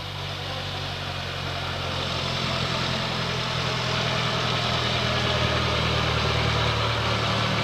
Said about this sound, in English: The engine you can hear in the background is the Napier Bentley getting ready for its climb.